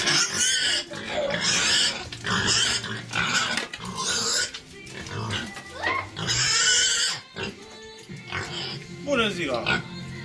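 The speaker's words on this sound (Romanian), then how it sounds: "Avem trei purcei. Rasa Pietran." Three Pietrain piglets grunt, squeal and snort up close while their pens are being cleaned. The calls are loud and frequent, and voices can be heard among them.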